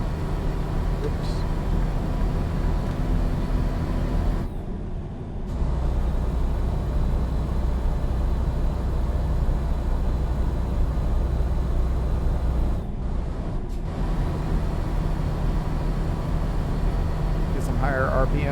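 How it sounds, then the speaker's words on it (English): A truck engine drones loudly and steadily as it climbs a hill in American Truck Simulator's Texas map, with two brief drops where the power cuts out, while someone talks over it. "Get some higher RPMs going up the hill."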